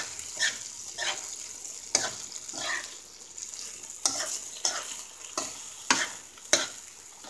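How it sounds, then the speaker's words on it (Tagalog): Egg being stirred into eggplant and bitter gourd in a frying pan, a soft background sizzle broken by repeated scraping strokes of a utensil at a steady rhythm, close and fairly quiet. "And mix it to the egg again"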